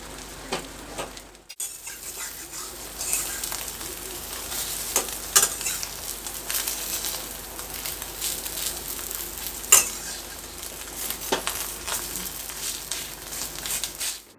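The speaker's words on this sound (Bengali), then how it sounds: "আমি এই ডিমের বড়াটা ভাজার সময় এখন কিন্তু গ্যাসের ফ্লেমটা একটু বাড়িয়ে" Egg fritters frying in a little oil over a high gas flame, a steady close sizzle and crackle lasting throughout, with occasional sharper pops and spatters.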